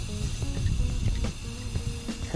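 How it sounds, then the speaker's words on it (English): Activator for hydro dipping scooter parts hisses out of a spray can in a short steady burst, a soft close-up spray with faint clicks and no voices. "try to spray it lightly because it does tend to splash"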